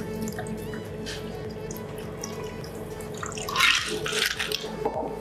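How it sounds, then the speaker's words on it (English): Gin cocktail mix poured into a tall highball glass over ice, a steady trickling, dripping pour lasting several seconds with a brighter splash near the end, close and alone. "And pour in our concoction."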